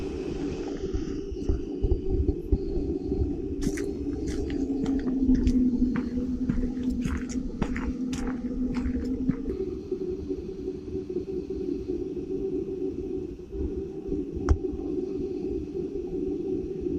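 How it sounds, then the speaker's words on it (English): A steady low motor hum from a Hohem iSteady Pro gimbal holding a GoPro Hero 7 drones throughout, with scattered light clicks and taps over it for a stretch in the middle. "there is some motor noise, and that's normal for this type of gimbals"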